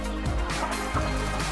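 Kadaknath chickens on a poultry farm clucking and calling close by, a steady murmur of fowl with a couple of louder bursts, no talking.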